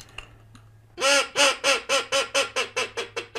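A duck call blown to imitate a teal hen gives a rapid string of about ten sharp quacks, loud and close, fading slightly in strength as the cadence runs on after a quiet start.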